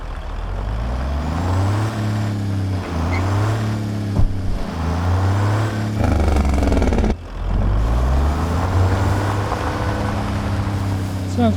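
C-Mod 625 truck engine in American Truck Simulator pulling hard through repeated gear climbs, deep rumbling pitch rising and dropping several times, with a brief air-brake-like hiss and a sharp cut near the middle, loud and close.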